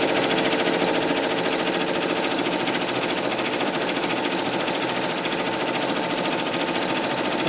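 A computerized embroidery machine stitches at roughly 800 stitches per minute, giving a loud, steady, rapid mechanical chatter with dense repetitive clicking that runs unbroken throughout.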